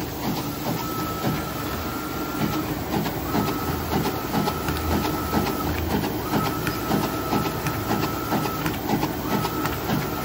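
A print shop printer runs a production job, giving a steady mechanical clatter with rapid repetitive clicking and a faint whine, continuous and fairly loud for the whole stretch with no talking.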